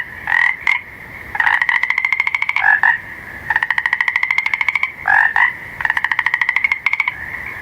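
A frog croaking loudly and close, in repeated rattling bursts and pulsing trills separated by short pauses, with no other sound.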